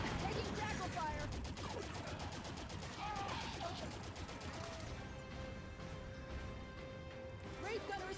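Covenant Jackal gunfire in the video game Halo 5: Guardians during a firefight around a Wraith tank, rapid bursts of energy-weapon shots and impacts crackling steadily under game music and effects.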